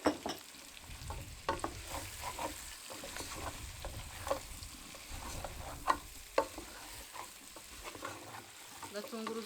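Onion and garlic fry in a pan for a beef dish, with a steady close sizzle and frequent scraping stirs and clinks of the utensil throughout.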